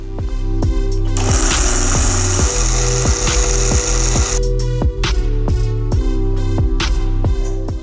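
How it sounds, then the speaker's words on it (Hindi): Electric grinder pulverising bread pieces into powder for a custard bread cake, a loud continuous motor whir with rapid rattling pulses and a brief harsher grinding burst in the middle. "अब हम ब्रेड को अच्छी तरीके से ग्राइंड कर लेंगे कि ये पाउडर बन जाए।"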